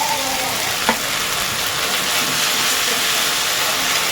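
Tomato puree for a spicy restaurant-style crab curry sizzles loudly in a pan, a close, steady hiss with one brief clink near the start and no talking.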